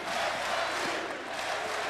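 A sellout basketball crowd fills the Carbondale arena during a Salukis game against Creighton, a loud, continuous roar of many voices with some rising shouts and no distinct speech.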